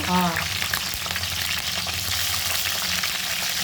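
Spices crackle and sizzle loudly in hot oil, a dense steady frying sound with a brief clink at the start.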